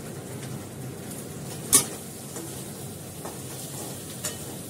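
Green peas and boiled potatoes fry in a pan, giving a quiet, steady sizzle. A sharp clink of utensil against the pan cuts through it, followed by a few faint stirring scrapes.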